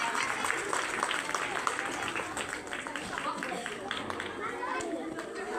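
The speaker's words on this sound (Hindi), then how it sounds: "ताली बजाकर मुझे बता दे कि हाँ समझ में आ गया" Audience applause at a school Republic Day speech event on the power of the vote, a steady wash of clapping with crowd chatter underneath, sustained and fairly even for several seconds.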